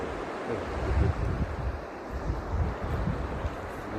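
Sea waves wash and break at the port of Bastia, a continuous roar of surf mixed with wind buffeting the microphone, fairly close and without speech.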